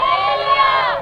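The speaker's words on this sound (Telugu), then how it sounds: "చేతులెత్తి కేక వేసి గొప్ప శబ్దముతో" A church congregation shouts together loudly with raised hands, a brief, sustained massed cry of many voices fading slightly at the end.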